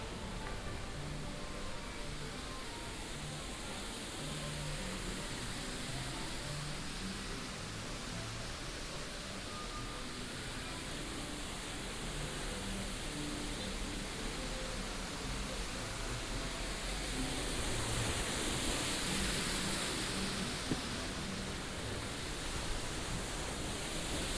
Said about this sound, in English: enjoy the cue, the sound of the waterfall as we walk through the outside